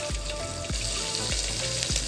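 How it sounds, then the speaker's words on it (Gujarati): Mustard seeds, cumin and asafoetida crackle and sizzle in hot oil as a tempering for a drumstick curry, a close, steady hiss broken by several low thuds spread across the clip. "આપણું તેલ છે ને ગરમ થાય એટલે તરત જ આપણે એક ચમચી રાઈ અડધી ચમચી જીરું એડ કરશું અને થોડી આપણે હિંગ એડ કરશું"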